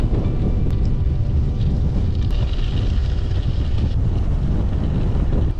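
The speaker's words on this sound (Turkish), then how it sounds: "Bayağı şiddetli esmeye başladı rüzgar." Strong headwind roars constantly against the microphone, a loud, unbroken buffeting rumble filling the whole stretch without any talk, on a mountain bike ride along village roads from Ayazma National Park to Çanakkale.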